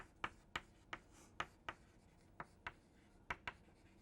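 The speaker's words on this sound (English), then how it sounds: "I just write it down here" Pen strokes on paper while a journal reference is jotted down: about a dozen short, crisp scratches in an irregular rhythm, close and fairly quiet, with no talking.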